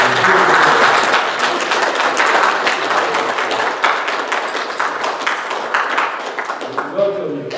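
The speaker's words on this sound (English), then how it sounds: "let's give our moms a wonderful hand clap" A church congregation claps for mothers during a service: loud, dense applause sustained throughout and thinning out toward the end.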